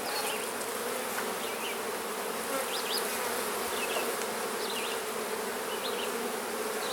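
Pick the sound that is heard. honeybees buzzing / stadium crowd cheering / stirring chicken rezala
honeybees buzzing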